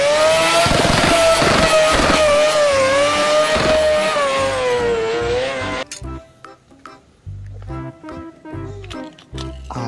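Green NASCAR toy race car giving a loud, wavering engine-rev sound effect for about six seconds, then cutting off into scattered plastic clicks and rattles.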